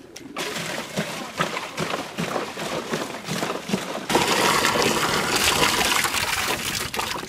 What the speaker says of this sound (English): Do you want to hold that while I give her some water?